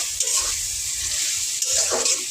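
Bottle gourd sautéing in a pan with a steady sizzle and the scrape of stirring, close and fairly loud, with faint water sounds in the background.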